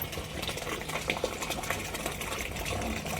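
A household electric motor pump runs steadily while filling a water tank with rushing water, a continuous close hum and splash with no talking.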